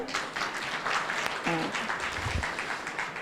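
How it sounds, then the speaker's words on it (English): Children and adults clap for a participant in a mind and memory workshop, a fairly faint, continuous patter of applause with a brief voice heard partway through. "Clap for him"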